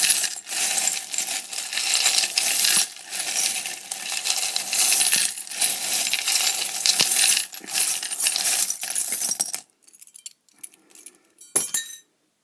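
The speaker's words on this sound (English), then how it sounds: "So I'm just going to stir up my charms. I know it's noisy" Continuous metallic rattling and clinking of many small metal pieces being stirred together, loud and close, stopping abruptly near the end with a few final clinks.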